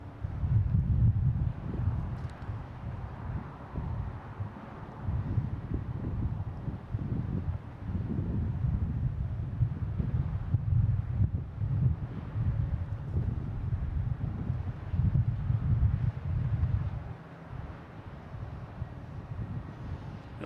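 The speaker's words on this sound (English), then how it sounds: "we are pretty high up, so the wind is definitely a factor up here" Wind buffeting a microphone on a high rooftop at Boston Logan International Airport, a continuous low roaring rumble with gusty surges that eases slightly toward the end.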